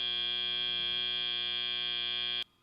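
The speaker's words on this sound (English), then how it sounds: "with that buzzer and bell, the drivers are going to take controls with the joysticks" A loud, steady electronic match buzzer at a competition event drones for a couple of seconds before drivers take joystick control, then cuts off abruptly into quiet background.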